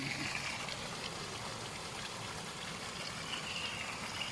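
A powerful stream gushes out of a concrete spillway pipe by the San Juan River, a constant dense hiss and roar heard up close, with no one talking.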